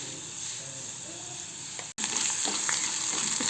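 Potatoes deep frying in oil give a dense, steady sizzle and bubbling hiss up close, briefly cut out for an instant midway, then returning louder with a few stirring scrapes.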